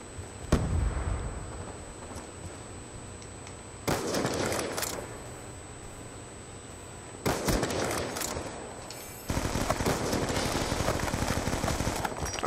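Call of Duty Black Ops 2 gunfire comes in several loud bursts of rapid shots, separated by short quieter gaps filled with game noise.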